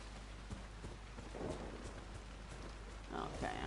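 A thunderstorm with lightning in the swampy setting of the video game Dragon Age Inquisition: steady rain hiss with low thunder rumbles swelling twice, heard alone at moderate loudness.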